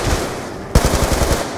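Rapid automatic gunfire in a Call of Duty zombies match on the Buried map: after a short lull, a loud, close burst of quick repeated shots rattles out in a tight rhythm.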